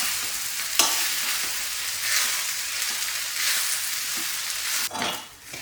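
Ground masala powder stirred into soft, cooked aubergine in a hot pan gives a continuous close sizzle, with spatula scrapes and clacks against the pan at intervals.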